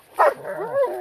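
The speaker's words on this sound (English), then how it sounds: "You stop barking." A dog gives a single close yelp followed by a drawn-out whining, whimpering vocalization, loud and alone without speech.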